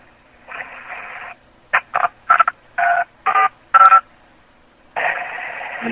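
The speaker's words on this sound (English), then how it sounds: "Here's our DTMF sounds." A rapid series of DTMF telephone keypad tones sent over a paging radio beeps in short bursts, six quick dual tones between longer static-laced radio bursts, loud and close.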